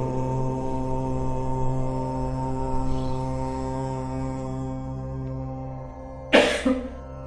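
A single short cough near the end of a pranayama breathing exercise, close and fairly loud, following a long steady droning hum.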